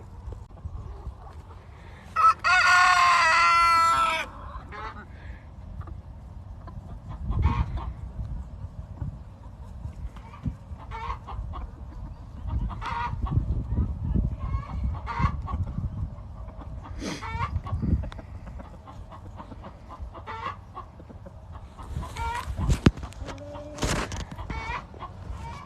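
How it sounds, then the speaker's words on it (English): Free-range chickens cluck and call around a farmyard, with a loud rooster-like squawk early on and scattered clucks and rustling throughout, no talking. "We got a lot of chickens"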